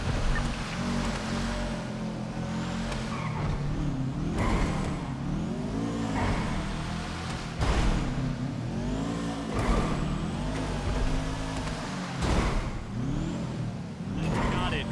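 A car engine in the video game GTA drones loudly and continuously while driving, with repeated rising revs and gear shifts, close and prominent throughout.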